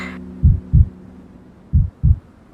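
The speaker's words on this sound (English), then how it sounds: "feeling his heart pound in unison with mine" A heartbeat effect in an audio drama thumps in two double-beat pairs, deep and close, over a faint low hum and background wash, with no voices.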